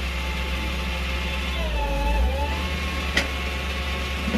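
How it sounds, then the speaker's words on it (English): A tow truck engine idling nearby at a Walmart parking lot, a steady low mechanical rumble with a faint wavering whine and one short sharp click partway through. "That's the tow truck behind me, by the way, if you guys hear that."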